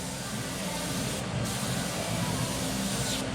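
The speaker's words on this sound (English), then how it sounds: "And the airbrush would work." An airbrush sprays paint in a steady, close, loud hiss of compressed air that runs unbroken, with a couple of slight shifts in tone as the stroke moves.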